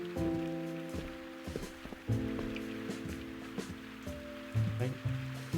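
Steady rain falls across the scene in the video game Viewfinder, a constant wash of patter running through the whole stretch beneath layered musical tones and occasional soft interface blips.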